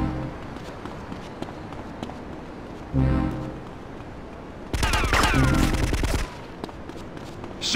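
Gunfire erupts in GTA Vice City Stories, with scattered footsteps and running leading into a loud burst of shots around the middle and a longer, denser volley of rapid fire before it settles again.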